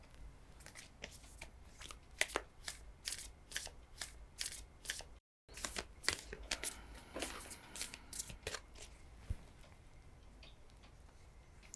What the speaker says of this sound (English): They just jumped out while I was shuffling.